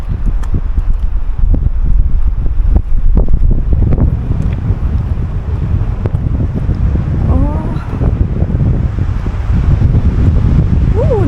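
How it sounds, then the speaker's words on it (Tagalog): Strong, cold wind buffets the microphone with continuous rumbling gusts at an outdoor monument in Stuttgart, Germany, while voices talk faintly underneath. "Mahangin."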